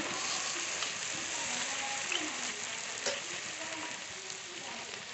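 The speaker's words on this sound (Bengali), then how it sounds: "শুকনো লঙ্কা বাটা সব একসঙ্গে কষিয়ে নেব ভালো করে" Ground garlic, cumin and coriander paste frying together in a pan for a chicken curry, a soft, continuous sizzle with faint occasional stirring, fairly quiet and without speech.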